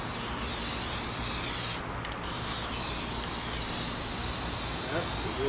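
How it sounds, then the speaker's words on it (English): Spray paint can hissing outdoors as a kids' bike gets coated, a steady close broadband spray that cuts out briefly near the two-second mark and then resumes. "Don't spray in one spot. Keep it moving."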